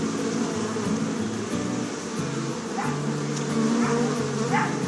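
A pet dog barks repeatedly in the background near a beehive, several sharp yaps spaced through the clip over a constant buzzing of bees.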